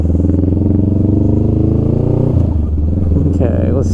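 Honda Rebel 500 motorcycle engine running steadily in first gear while turning into a narrow side alley, a loud close drone with a brief rattle near the end.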